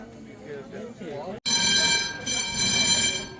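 A historic mountain railway train in Heidelberg, running since 1907, rumbles and whines loudly after a brief cut, with a tonal, steady mechanical drone; a person speaks over the start.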